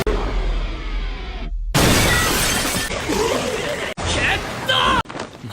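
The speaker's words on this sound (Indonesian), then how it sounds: "Saat itu juga Yuji mendobrak jendela kaca dan kemudian menghajar makhluk kutukan itu." A glass window is smashed, heard as a loud, abrupt shattering burst with scattering fragments after a quieter stretch, followed by further crashing impact noises in a dramatic scene.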